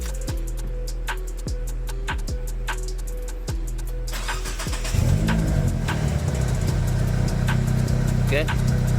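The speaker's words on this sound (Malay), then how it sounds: "engine boleh start, engine boleh start macam biasa" A Proton Wira Mivec with a 4G92 engine, running its original ECU chip, cranks with a string of rhythmic starter pulses, catches after about four seconds and settles into a close, steady idle with a low hum. Voices talk over parts of it.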